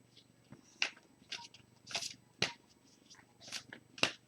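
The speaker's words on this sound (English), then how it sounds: "give a little more shuffle and we fan these out." Tarot cards shuffled by hand, faint close-up riffles and soft slaps coming in brief irregular bursts with short pauses between them, quiet and alone.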